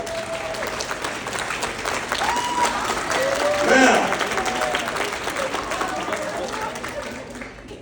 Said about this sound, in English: I appreciate the hand claps